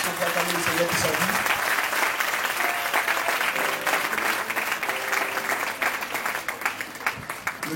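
A church congregation applauds loudly and steadily at a pastor's anniversary celebration, dense clapping filling the room throughout, with a voice speaking over it.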